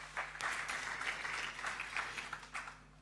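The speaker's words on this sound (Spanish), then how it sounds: "Sí, aplauso." Scattered applause from an audience at an economic forum event, a soft patter of individual claps at moderate distance, fairly quiet and uneven.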